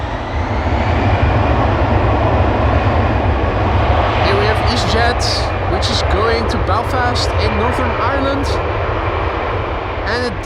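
An EasyJet airliner moves at Amsterdam Schiphol Airport, giving a loud, steady jet engine roar with a deep rumble that holds through the whole stretch while faint voices murmur underneath.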